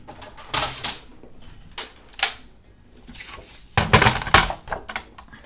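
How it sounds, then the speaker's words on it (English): A paper trimmer slices paper in a planner setup, giving a series of short, sharp scraping and clicking bursts at irregular intervals, close and fairly loud, ending with a cluster of quick cuts. "Let's get my paper trimmer."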